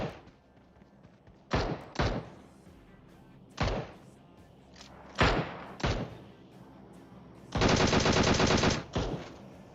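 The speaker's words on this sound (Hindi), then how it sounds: "सामने यार बॉटों पे अत्याचार चल रहा होता है तो हम बॉट फायर करते हैं।" Gunfire at bots in PUBG Mobile: scattered single and paired loud shots, then a dense rapid burst of automatic fire and one last shot, close and punchy with no voices.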